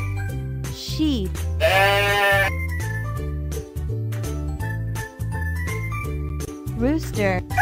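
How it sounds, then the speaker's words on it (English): A sheep bleats with a long wavering cry over cheerful jingling music, with a few shorter squeaky calls around it. "Sheep."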